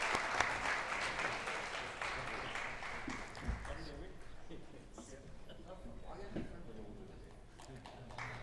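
Applause at a transgender awards ceremony, sustained crowd clapping that stays strong for a few seconds and then thins into scattered claps with voices in the background.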